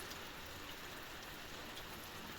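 Steady rain falls on a garden, a dense, even hiss of drops holding level and close throughout with no voices.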